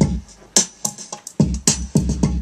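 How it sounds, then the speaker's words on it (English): A snare sample joins a kick-driven hip-hop beat, with sharp, bright cracks landing between deep kick thumps in a steady loop that sounds loud and close, with no voices. "snare."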